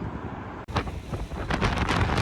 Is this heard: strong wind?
yes